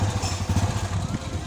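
A used motorcycle's engine turns over and runs roughly with a low, pulsing rumble close by, while people talk over it.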